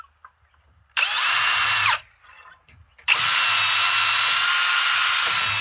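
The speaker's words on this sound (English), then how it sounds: "I'm having to clear out the drill bit because this wood is so dense" An electric drill bores into very dense wood over a joist and board, a loud close whirring grind lasting about a second, a pause with faint clicks as the bit is cleared, then a longer sustained drilling run.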